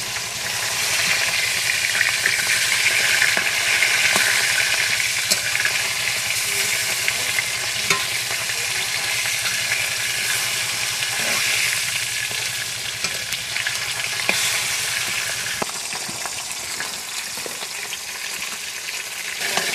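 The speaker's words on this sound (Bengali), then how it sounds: "এক পিঠ লাল করে ভেজে নিয়েছি, আর এক পিঠ উল্টে দিচ্ছি।" Fish frying in oil after being turned to brown the second side, a loud, steady crackling sizzle with occasional sharper pops, lasting the whole stretch and easing slightly near the end.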